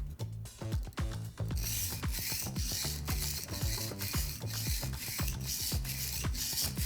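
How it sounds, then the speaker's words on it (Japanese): A kitchen knife with a chipped edge is drawn up and down a whetstone in steady, repeated rasping strokes, each scrape short and evenly spaced, close and fairly loud. "下から上まで左手ずらしながら研いでみてください。"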